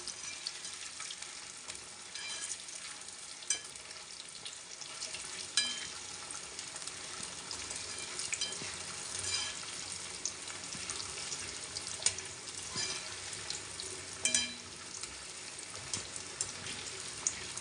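Taro root (arbi) pieces fry in a pan of oil like pakoras, making a soft, continuous sizzle at low volume with scattered sharp ticks and clinks of stirring, and no talking.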